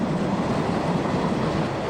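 Steady low rumble of a train rolling along the tracks, close and fairly loud, with no voices.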